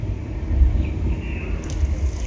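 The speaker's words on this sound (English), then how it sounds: "You got thunder and lightning." A low, steady rumble of simulated thunder rolls through the Universal Studios tram tour, moderately loud and continuous, with deep booming swells and no voices.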